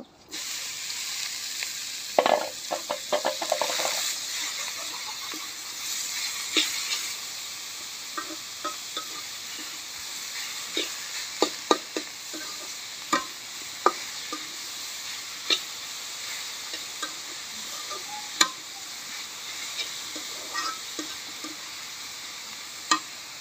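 Pumpkin greens added to browned onion in a hot pan, frying with a steady sizzle and hiss while a utensil stirs them, giving frequent sharp scrapes and clinks over about twenty seconds.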